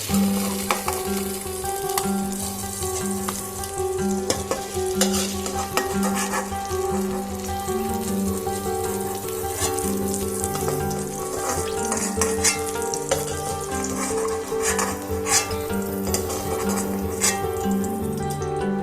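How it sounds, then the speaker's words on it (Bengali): Okra (bhindi) fries in oil in a kadai for masala bhaji, a loud, continuous sizzle with scattered pops and spatula clinks over a low, humming background. "ভেন্ডিগুলোকেও ভালো করে আমি ভেজে নিয়েছি। এবারে তুলে নিচ্ছি।"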